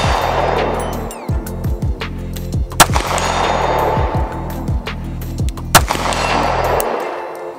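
An STI Staccato P pistol fires at an outdoor shooting range, a series of sharp, widely spaced reports over a constant low engine-like hum, each shot crisp and fairly close.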